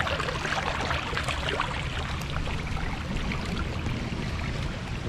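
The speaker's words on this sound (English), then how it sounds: "And there's a lot of water coming across through there." Rainwater runs across a yard meant as a playground, draining toward a corrugated pipe, making a steady, broad rushing wash with a trickling texture that holds at an even level throughout with no voices.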